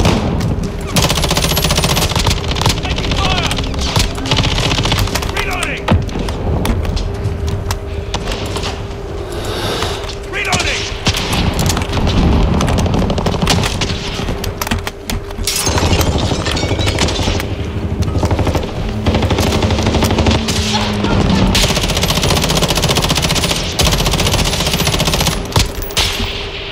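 Sustained automatic gunfire and explosions in Call of Duty Modern Warfare, loud and dense throughout with a steady background hum and scattered bursts, no clear talk.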